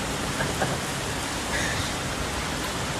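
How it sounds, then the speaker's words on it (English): Dense steady hiss of heavy rain and hail pounding surfaces during an intense Texas hailstorm, an unbroken roar close up with faint scattered impacts inside it. "This hailstorm in Texas was so intense that the hail started coming inside the home."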